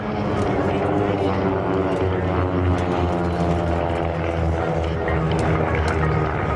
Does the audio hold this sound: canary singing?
no